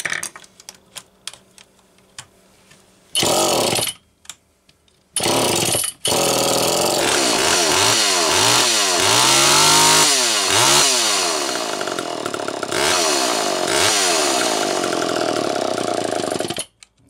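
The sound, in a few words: Homelite Super EZ chainsaw engine running after carburetor adjustment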